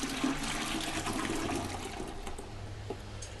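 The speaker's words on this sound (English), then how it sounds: "We chilled the wort down to about 70 degrees, and now we're going to add it to the 3 gallons of water that we put into the primary fermenter here." Chilled homebrew beer wort poured from a kettle into a primary fermenter holding water, a steady splashing liquid pour that softens toward the end.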